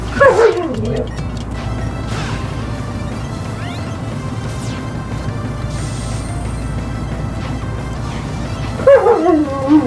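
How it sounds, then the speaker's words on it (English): Dog barks and yips from the Sonic Colors video game burst out loudly at the start and again near the end, with a busy layer of game music and effects filling the gap between them. "And I got a stupid dog barking here."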